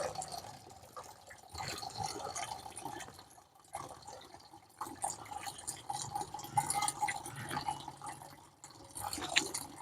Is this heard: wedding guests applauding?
no